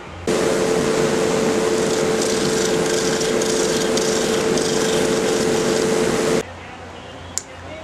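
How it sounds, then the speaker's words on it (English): Wooden bird beak being hollowed out on a jig, a loud steady grinding rasp with a constant whine running about six seconds close up, then stopping abruptly, followed by a single faint click. "so I'm going to hollow it out as best I can with my jig"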